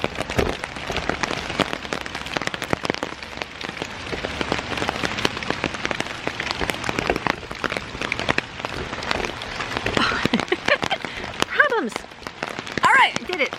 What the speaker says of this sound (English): It is so rainy. It was started to really downpour.